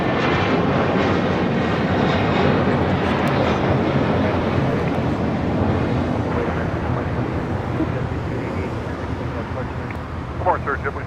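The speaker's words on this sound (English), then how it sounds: "The Korean Air A380 Super still making his way over to Tom Bradley." A Korean Air A380 airliner taxis at LAX toward Tom Bradley terminal, its engines a steady, loud broadband roar that holds through the whole stretch, with a voice talking over it.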